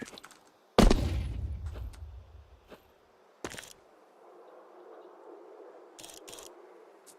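A flashbang in the tactical shooter Valorant goes off with a sudden loud burst and low rumble that fades over about two seconds, followed by a few brief sharp clicks and a quieter steady in-game ambience.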